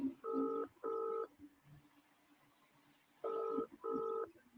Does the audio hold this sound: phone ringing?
yes